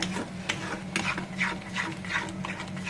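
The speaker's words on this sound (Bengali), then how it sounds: "এই পর্যায়ে নাড়াচাড়া করে কিন্তু একদম একটা ঘন ভর্তা বানিয়ে নেব আমি ভালো করে নেড়ে ছেড়ে দিচ্ছি" A spoon scrapes and stirs thick pointed gourd mash in a pan, soft repeated rubbing strokes with a faint low sizzle underneath, close and quiet.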